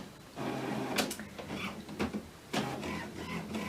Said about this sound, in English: I can hear the printer again clicking into life